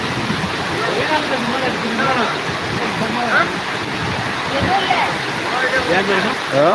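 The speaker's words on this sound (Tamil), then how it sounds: "மழை பெய்யறது தெரிகிறதா" Rain falls during the rainy season, a steady broadband hiss running throughout while a person talks over it.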